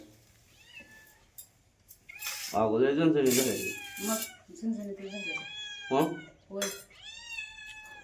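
A cat meows several times, drawn-out and insistent, close by, mixed with a person talking and a faint clink of dishes.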